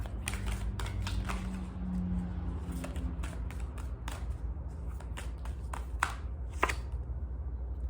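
Tarot cards shuffled by hand to draw an extra card, a steady run of soft riffling taps and flicks over a low background hum, with a few sharper snaps near the end.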